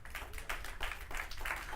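A church congregation claps their hands as an offering of praise, several quick bursts of clapping in a row, fairly soft and close-sounding.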